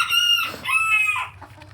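Several chickens cluck and squawk up close in a quick run of high, throaty calls.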